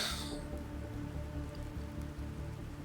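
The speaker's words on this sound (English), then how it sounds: "We've got rain." Rain falling in The Planet Crafter video game, a steady close patter of raindrops on surfaces that continues evenly throughout, with no voices over it.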